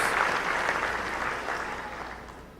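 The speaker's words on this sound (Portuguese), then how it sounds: "Vamos dar uma salva de palmas a Jesus pela vida de vocês." Church congregation applauding together, a steady dense wash of clapping that stays loud throughout and fades slightly toward the end.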